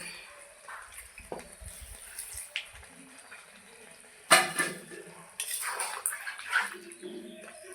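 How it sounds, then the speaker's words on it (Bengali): Water splashes into a cooking pan of hyacinth bean and potato curry in two short bursts between quiet clinks of a bowl and utensils. The sounds are close and moderate in level. "এখন আমি মিক্সির বাটি ধুয়ে একটু জল দিয়ে দেবো"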